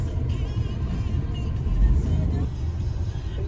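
A steady engine drone and road rumble fill a car cabin on a long country drive, a continuous low hum with a slight swell midway, while someone talks over it.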